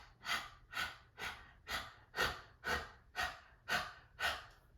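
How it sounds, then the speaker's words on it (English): Nine rhythmic, forceful panting breaths from a fire breathing exercise, evenly spaced about half a second apart, close and clear against a quiet room. "some people really like to do the panting breath"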